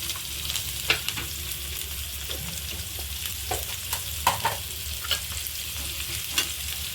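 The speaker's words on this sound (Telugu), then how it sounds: "కరివేపాకు కొంచెం బాగా వేగాలండి ఆనియన్స్ అనేది వేగిన తర్వాత" Onions, green chilies and curry leaves fry in hot oil with a constant close sizzle, broken by irregular clicks and scrapes of a spatula stirring the pan. No voices.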